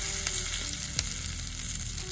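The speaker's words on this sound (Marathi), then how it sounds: "आता आपण याला वरती फोडणी देऊया." Tempering for chutney sizzles and crackles steadily in hot oil, a dense close frying hiss with small pops, continuous and alone.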